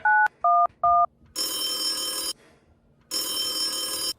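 A mobile phone rings: three short beeping tones, then two long, loud electronic rings with a gap between them, clear and close with no voices.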